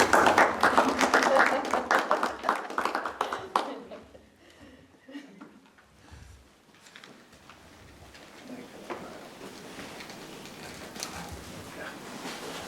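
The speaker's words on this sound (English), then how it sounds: "It's okay to clap." Applause from an audience at a school board meeting, strong and dense at first, then fading into scattered claps and room murmur with voices talking.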